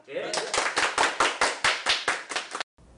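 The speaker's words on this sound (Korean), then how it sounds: "우리 박수 한번 칠까 이거?" A small group in an office at a dental implant company claps together in celebration: about a dozen crisp, evenly spaced claps in unison, close and fairly loud, then a sudden stop.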